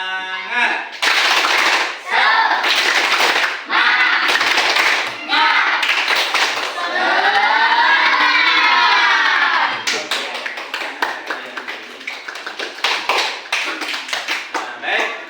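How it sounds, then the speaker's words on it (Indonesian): A classroom group performs tepuk semangat, a rhythmic clapping chant, at the start of a lesson: loud, close bursts of patterned claps alternate with voices chanting together, ending in a long run of quick, fading claps. "kita speaking dulu ya dengan mengadakan tepuk semangat"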